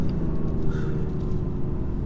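A 2017 BMW 435d diesel coupe accelerating hard out of a corner, heard from inside the cabin as a steady, loud low engine drone and rumble with no break over a couple of seconds.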